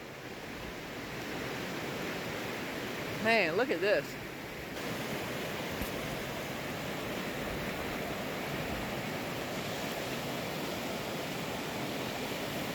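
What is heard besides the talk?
flash-flooded creek rushing water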